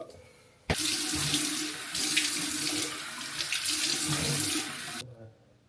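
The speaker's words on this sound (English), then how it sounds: "first thing I really do is just cleanse my face with water" Water runs steadily from a tap for several seconds while a face is rinsed, a loud continuous splashing that starts abruptly and stops just as suddenly, with some hand movements in the stream.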